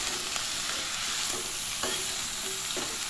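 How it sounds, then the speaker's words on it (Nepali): Snake gourd curry stirred and fried in a pan, a steady sizzle with soft scraping strokes of the spoon repeating every second or so, close and continuous with no talking. "यसरी राम्रोसँग चलाउँदै चलाउँदै यसलाई चाहिँ एकैछिन भुट्ने."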